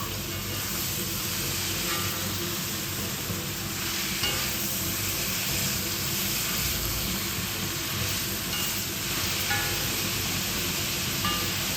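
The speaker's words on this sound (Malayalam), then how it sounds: "ഇതെല്ലാം കൂടെ വഴറ്റിയെടുക്കാം" Chopped capsicum and ripe tomatoes sauté in a pan for noodles, giving a continuous, close sizzle broken by occasional scraping stirs.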